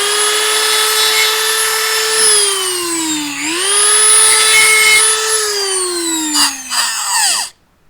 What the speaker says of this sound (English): I need to grind down the base of the rocket a little to fit the machine craft